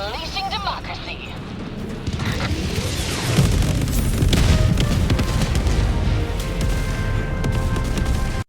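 Eagle Cluster Strike in Helldivers 2, a descending whine followed by a long stretch of dense rolling booms and crackling blasts, loud and sustained, with a voice talking over the barrage.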